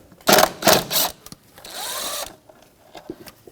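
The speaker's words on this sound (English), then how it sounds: "There is one ground wire, so we're going to have to disconnect that, 10mm socket." A 10mm socket loosens the ground wire bolt on a 2007-2017 Jeep Patriot: two short, loud mechanical bursts followed by a steadier whirring run of about a second, then faint clicks and handling noises, with no talking.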